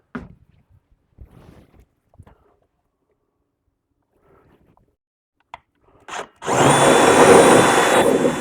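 A power drill bores through holiday light fixtures while low-voltage lights are wired, starting after some quiet handling clicks and then running loud and steady for the last couple of seconds.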